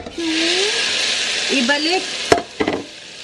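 Food fries in a wok with a steady bright sizzle, stirred now and then with a few sharp scraping clatters, while a voice and whistling-like sounds come in briefly.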